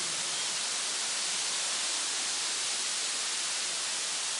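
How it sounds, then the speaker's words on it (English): Creek water flows through a wetland beside a cottage garden, heard as a steady, even rushing wash from very close by, unbroken for the whole stretch with no voices. "I'm just going to hold the camera up in the creek."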